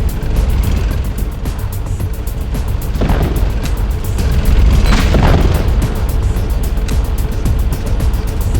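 A grenade goes off in Metal Gear Solid: The Twin Snakes, a loud dull boom rising out of a constant rumbling background roar, swelling and fading over several seconds with no talk.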